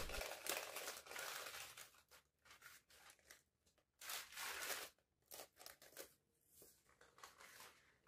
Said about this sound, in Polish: Odkleiłam papier i delikatnie odłożyłam ją na bok.